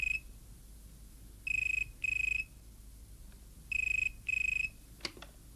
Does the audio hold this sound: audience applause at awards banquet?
no